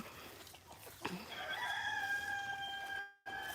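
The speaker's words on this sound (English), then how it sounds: "This is a laughing rooster." A rooster, one of a farm flock with barred rocks among them, lets out a single crow of medium loudness, its harmonic call held for about two seconds over quiet farmyard background.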